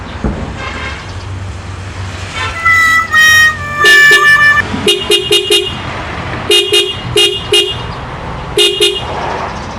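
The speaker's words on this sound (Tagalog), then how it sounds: "Try natin busina." A car horn on a vehicle fitted with a new Dayway battery honks in several short, loud bursts, first a couple of longer toots and then a rapid series of quick beeps, with no talking over them.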